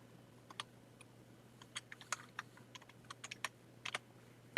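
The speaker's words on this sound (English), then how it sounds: "You're going to just click enter and type another word." Computer keyboard keys clack in quick irregular bursts while words are typed, crisp and close in a quiet room.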